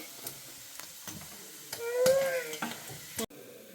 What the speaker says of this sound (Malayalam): ഇപ്പോൾ നമ്മുടെ ബീഫ് നല്ല പോലെ ഫ്രൈ ആയി വന്നിട്ടുണ്ട്